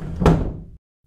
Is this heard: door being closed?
yes